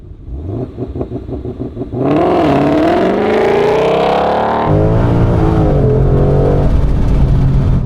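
A C8 Corvette with its DCT in automatic launches hard with the rear tires spinning the entire way, the engine rising from idle into a loud, sustained rev through the gears, close and alone with no talking.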